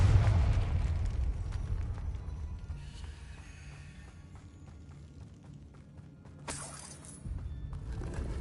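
A Confringo fire-spell explosion in Hogwarts Legacy, a heavy, rumbling boom at the start that fades into a low crackling tail, with a brief bright burst later.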